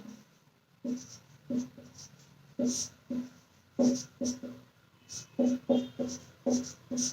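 Chalk or marker strokes on a classroom board during a Hindi lesson, short scratchy taps in quick uneven bursts, close and fairly quiet, with a few pauses between phrases and no voice over them.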